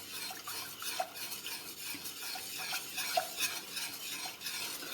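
A basbousa syrup mixture is stirred in a pot on the stove, a steady scraping swish with light clinks of the spoon against the metal, close up and without talk.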